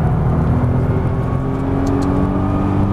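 Nissan GT-R engine pulling hard on a racetrack during a driving experience, a loud, steady, close-up engine drone with layered low tones held for a few seconds and no talk over it.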